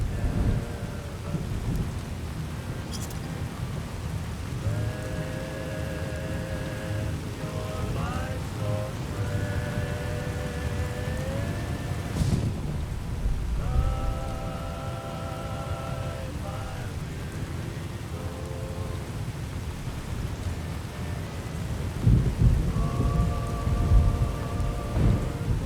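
Steady, heavy rain in the video game Fallout: New Vegas hisses throughout with low thunder rumbling underneath. Tonal electronic beeps and tones come and go over the downpour.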